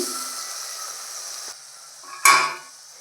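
Chilli and coriander powders sizzling in hot oil for a fish curry, a soft steady hiss close by, broken by a brief louder scrape of stirring near the end.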